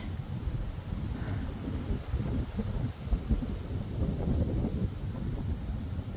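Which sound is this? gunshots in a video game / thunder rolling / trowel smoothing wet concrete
thunder rolling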